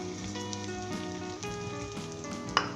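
Onion sizzling as it fries in hot oil for a cabbage sabzi, a steady close crackle with a brief louder pop near the end and no voices.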